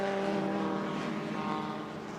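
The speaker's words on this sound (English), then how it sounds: "Will Nuttall driving this car in approved style." A pre-1966 Grand Prix race car drives on a circuit at a classic racing meeting, its engine a steady, buzzing drone held at near-constant pitch before easing slightly as it moves away.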